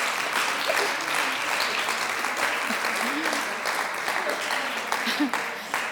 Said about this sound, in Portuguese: Dei uma salva de palmas a Jesus